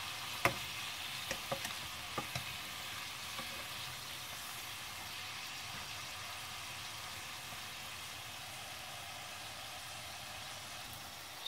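Meat fries gently in a pan on low heat, a faint, even sizzle with a few light utensil clicks near the start, then a quiet steady hiss with no speech.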